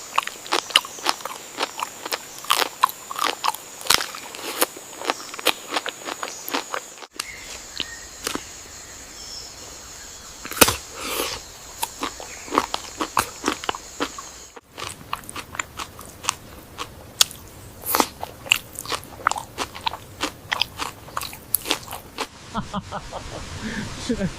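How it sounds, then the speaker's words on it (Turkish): Someone eating loudly with open-mouthed smacking and crunchy bites, a steady run of sharp chewing clicks and crackles close to the mic, nearly continuous for the whole stretch with brief pauses. "Biraz şapırdatarak yiyorum kusura bakmayın."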